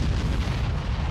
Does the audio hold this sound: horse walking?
no